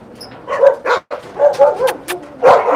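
Dogs at a South Korean dog meat farm bark and yip in quick irregular bursts, close and loud, several overlapping short barks with a brief pause between.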